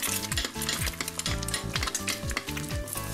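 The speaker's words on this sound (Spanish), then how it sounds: "freímos los huevos de codorniz" Quail eggs fry in a pan with a steady, close hiss that runs under rhythmic background music for the whole short stretch.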